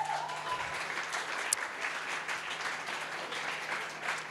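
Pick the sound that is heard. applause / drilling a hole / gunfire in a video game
applause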